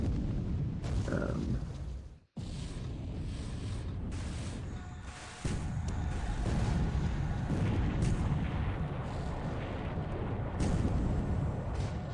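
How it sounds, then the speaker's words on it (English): A torpedo strikes the Japanese destroyer Suzukaze in the War in the Pacific naval strategy game, a heavy booming explosion with rumbling artillery-like blasts that fill the clip, broken by a brief dropout near the start. "did we witness a torpedo hitting the Suzukaze?"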